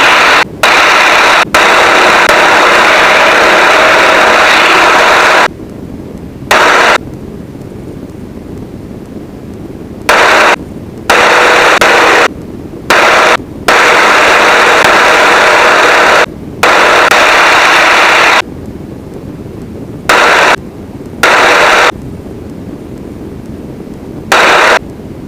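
A Yak-52's engine runs at full RPM during two-ship formation aerobatics, a loud, steady roaring drone with wind rush. The sound cuts out repeatedly in short, abrupt gaps throughout.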